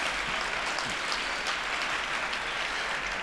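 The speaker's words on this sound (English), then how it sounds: "applaud yourself" A comedy-show audience applauds, a dense, steady wash of clapping from a large crowd heard at some distance, even and unbroken for a few seconds.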